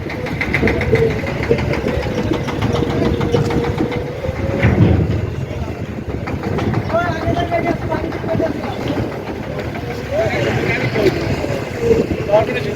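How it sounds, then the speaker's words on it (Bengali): Strong wind buffets the microphone beside the rough Panguchi river at Morrelganj, a continuous heavy rumble with a low engine drone, like a passing boat, and a person talking over it. "মোরেলগঞ্জ পানগুছি নদী, বাতাস প্রচুর, নদী অনেকটা বাতাসের কারণে উত্তাল।"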